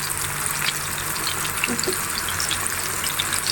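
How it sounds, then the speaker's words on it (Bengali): Pangasius fish pieces frying in oil in a pan, a steady, loud hiss that holds evenly throughout without pause. "এভাবে করে সব কয়টা মাছের পিস আমি ভেজে নিব"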